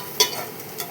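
Dried fish and prawns fry with spices in a pan, giving a steady soft sizzle with a couple of brief stirring scrapes.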